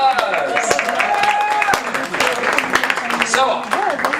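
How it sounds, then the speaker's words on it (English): Applause from a crowd at a child study center grand opening, scattered clapping mixed under loud overlapping voices and chatter, close and fairly busy. "Big round of applause."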